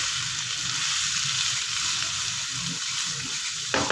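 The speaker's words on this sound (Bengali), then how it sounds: "গাজরগুলো হালকা ভাজা হোক" Carrots fry in a pan for vegetable fried rice, a steady close sizzle with faint stirring scrapes underneath, ending in a brief louder clatter.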